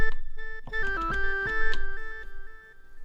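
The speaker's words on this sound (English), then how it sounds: "Reverb and delay sound like this." Korg EMX-1 groovebox playing a short synth melody through reverb and delay, bright tones stepping up and down with echoing tails and a low rumble underneath, fairly loud and alone.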